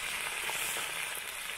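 Meat sizzling and frying in a kazan over a campfire while cooking potatoes with meat, a steady, dense crackling hiss heard up close, loud and continuous with no voices.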